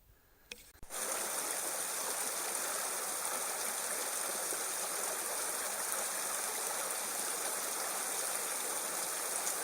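Steady, dense rush of a stream pouring over a series of small waterfalls at Slaley/Healey Mill on an icy late-November day, a constant broadband roar heard close and alone after a brief handling bump.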